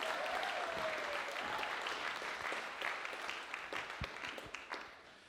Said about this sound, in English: let's have another big round of applause for being here